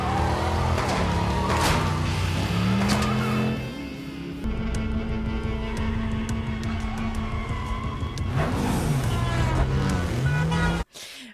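A Ford Mustang engine roars and revs in a John Wick Chapter 4 scene, with pitch sweeps, tire skids and loud movie score, with brief speech heard under the din, ending abruptly.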